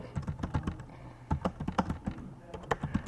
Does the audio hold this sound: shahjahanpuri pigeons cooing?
no